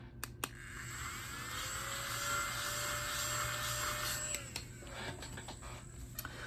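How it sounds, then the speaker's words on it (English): A small handheld vacuum cleaner whirs steadily at close range for about four seconds with a high whine, then cuts off, leaving faint rustling and a few light clicks around it. "Pull out a little vacuum so I don't make a total mess."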